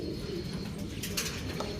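Soft pigeon cooing with low murmuring calls in a quiet, steady background, a few faint chirps mixed in.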